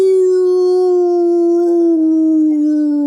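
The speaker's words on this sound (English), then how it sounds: "A deep, bellowing howl." A single deep, loud howl holds steady and close for about three seconds, its pitch sliding slowly downward, with no other sounds around it.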